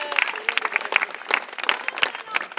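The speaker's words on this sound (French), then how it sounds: "allez, on applaudit" Scattered audience applause at a stage show, a few dozen hands clapping in uneven bursts, moderately close, with voices talking over it.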